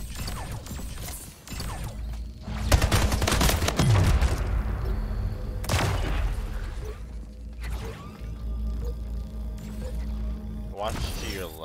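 Gunfire bursts in the Splitgate video game, several sharp rapid volleys and mechanical clicks amid game effects, with players talking over the action.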